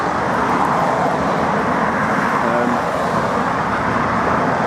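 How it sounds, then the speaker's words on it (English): Steady road traffic near HM Prison Lewes in the UK, with cars passing in a continuous, fairly loud broadband rumble and swish that never drops away, heard close by with no clear gaps between vehicles. "Sorry about the road noise"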